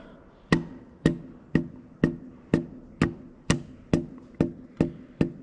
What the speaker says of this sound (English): Just grab the plastic hammer.